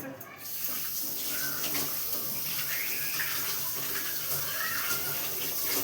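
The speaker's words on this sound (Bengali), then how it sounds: "হ্যাঁ, আমি ধুয়ে নিই মাছটা" Tap water runs steadily into a sink while fish is washed under it, a continuous hiss with faint splashes, and someone talks over it.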